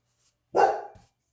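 A single dog gives one loud, drawn-out bark that trails into a whine, close to the listener, with a faint sound just before and a softer one after.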